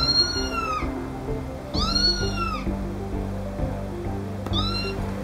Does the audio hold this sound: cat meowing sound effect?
yes